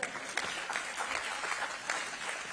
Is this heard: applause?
yes